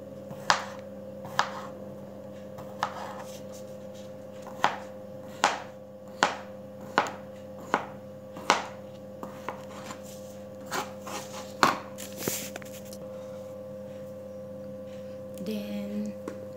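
A knife slicing a cucumber into rings on a board for pickles, about a dozen crisp, evenly paced chops up close over a steady electrical hum.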